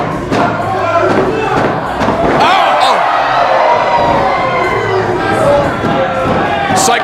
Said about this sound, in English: the crowd is making too much noise for me